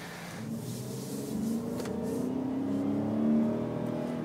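A GMC Terrain accelerates on a test drive, heard from inside as a steady engine hum that rises gradually in pitch and loudness, with no voices.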